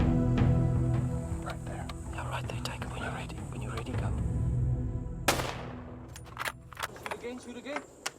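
A rifle shot rings out on an African big game hunt: one sharp, loud crack in the middle after hushed, whispered talk, with quieter voices and faint knocks continuing afterward.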